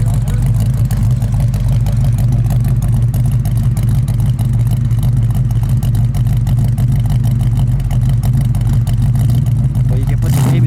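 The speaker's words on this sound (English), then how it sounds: "Let's listen to it idle." A 1970 AMC AMX with its 390 cubic inch V8 idles close by, a loud, steady, even rumble that holds smooth and constant throughout, settling briefly at the very end.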